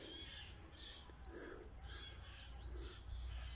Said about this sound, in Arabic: هاي كانه في ببغاءات هناك صوت ايش هذا ببغاء ولا شو هو